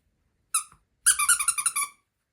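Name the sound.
squeaky dog toy squeaking while dog nibbles it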